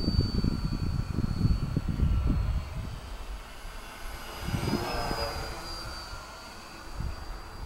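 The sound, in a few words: RC model airplane flying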